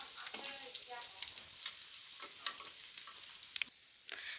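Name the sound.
frying fish and potatoes in oil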